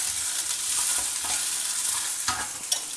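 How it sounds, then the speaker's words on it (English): Chopped onion stirred into hot oil in a pan with golden roasted dal, a continuous loud sizzle with scraping stir strokes, close and steady, no voices. "Next, add in the chopped onion"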